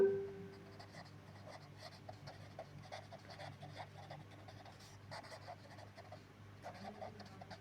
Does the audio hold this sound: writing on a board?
yes